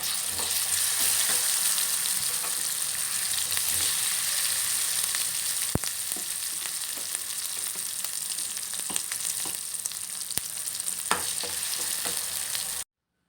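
Steady, loud sizzling of spices and curry leaves frying in hot oil for tempering, a continuous crackle with a few sharp pops, no voices.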